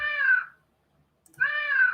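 Two synthesized cat meows from a Scratch project's Meow 2 sound, each a clear, mid-pitched, slightly falling cry about half a second long, separated by nearly a second of silence.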